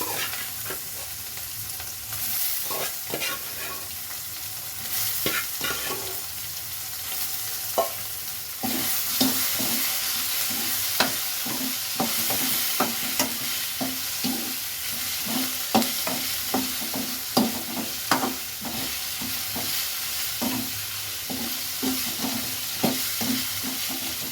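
Soybean chunks fry in a pan with a steady sizzle while a spatula stirs and scrapes in frequent rhythmic knocks, close and continuous for over twenty seconds, with no speech.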